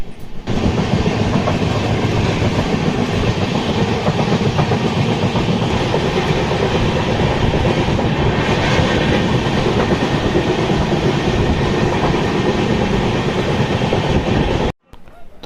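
Steady, loud rumble and rhythmic clatter inside a moving Pawan Express train's 2nd AC coach, continuous throughout before cutting off abruptly near the end.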